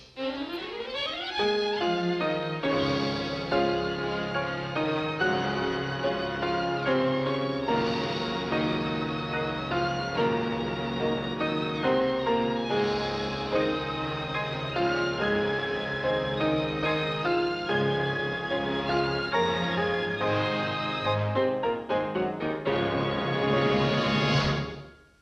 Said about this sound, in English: that melody that you hear the orchestra play in the opening titles